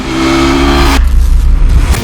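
Suzuki V-Strom 1000 motorcycle engine roars up close, a loud steady exhaust drone that shifts abruptly to a rougher, throatier rumble after about a second, with no voices.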